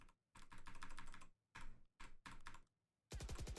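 Rapid clattering keystrokes on a computer keyboard in quick bursts separated by short pauses, close and crisp, with one final louder burst of clicks at the end.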